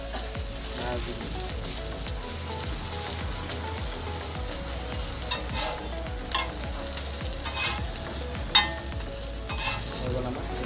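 Maggi noodle omelette frying in a pan on a gas stove, a steady sizzle under scraping and stirring clicks, with a few sharper spatula knocks near the end; no talking.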